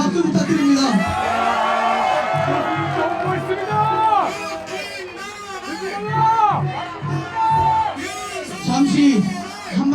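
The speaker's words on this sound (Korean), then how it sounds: "좋은 말씀 해주신 교수님께 박수 부탁드립니다" A rally crowd at an anti-impeachment gathering at Korea University whoops, yells and cheers for a professor, with loud overlapping shouts and chatter rising and falling across the whole stretch.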